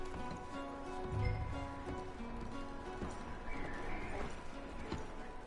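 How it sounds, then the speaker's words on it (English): Horses clip-clop and neigh near a cabin in the video game Red Dead Redemption 2, set in a steady bed of ambient outdoor sound with faint distant voices. "Micah, go bring the horses closer to the house"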